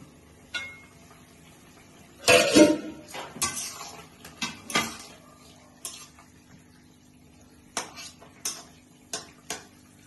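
Metal lid lifted off a cooking pot of potatoes being boiled for a pointed gourd and soybean curry, a sharp clatter followed by several lighter scattered clinks and taps in a quiet kitchen.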